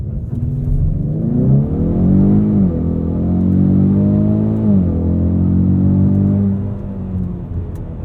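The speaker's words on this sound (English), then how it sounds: "do a little bit of a launch here." A 2020 Ford Mustang EcoBoost with the High Performance Package launches in sport mode with traction control off, its four-cylinder engine revving loud and close, pitch climbing through gears with brief dips at shifts.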